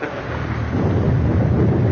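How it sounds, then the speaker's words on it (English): A thunderstorm rumbles in a classic comedy drama film, a loud, dense, continuous roll of thunder with rain-like hiss filling the whole moment, no voices. "it's going to be 3 days before this storm blows over"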